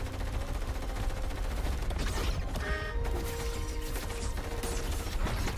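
Gunfire from an alien invasion film sounds as bursts and mechanical clatter within a dense, loud, continuous action mix, with metallic tones and rumbling throughout.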